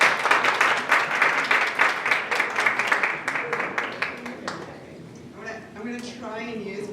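A seminar audience applauds with dense, steady clapping for about four seconds that then fades out, followed by a voice starting to speak.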